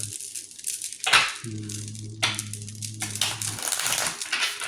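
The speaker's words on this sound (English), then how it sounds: "I'll do a good hard shuffle here." Crisp papery riffling and slapping of tarot cards being shuffled hard, a few vigorous bursts with a low steady hum underneath.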